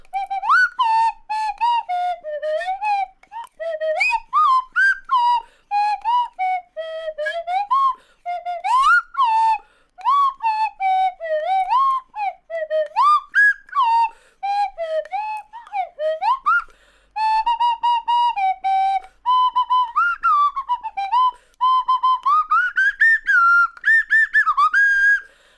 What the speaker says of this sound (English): I'm trying to wake myself up by playing the slide whistle terribly